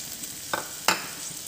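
Pointed gourd (potol) pieces fry in a spice masala with a soft steady sizzle, broken by two sharp spatula scrapes or stirs close by.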